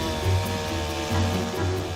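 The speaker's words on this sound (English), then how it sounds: "the only thing for it is my chainsaw" A chainsaw cuts down an old cherry tree in a garden, running as a loud, steady motor whine that rises and dips slightly as it bites into the wood.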